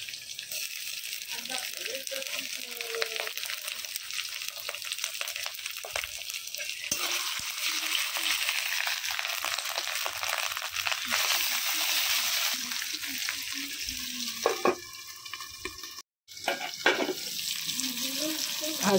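Onion and green chilli fry in a pan as ginger goes in, giving a steady mid-level sizzle through most of the stretch, with occasional stirring scrapes and a short gap near the end.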